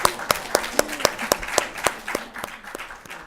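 Scattered audience applause at a community panel event, individual claps sharp and spaced, loud at first and thinning out over a few seconds with no talking.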